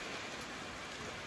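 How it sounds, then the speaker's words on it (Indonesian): Steady rain falls in an unbroken broadband hiss, close and constant with no talk, filling the short stretch evenly from start to finish. "Ini kebetulan hujan."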